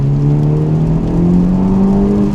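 Honda Civic Type R with its resonators deleted revving up under load, a loud, steady close-up exhaust drone that climbs gradually in pitch over a couple of seconds, with no talking.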